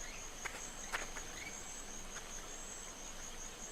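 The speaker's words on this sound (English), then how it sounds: "Even from here, that thing still stinks of carrion. And here come the flies." Flies buzz around carrion in the video game Secret Files 2, a faint, steady insect hum over a thin high whine, with a few soft ticks and no talking.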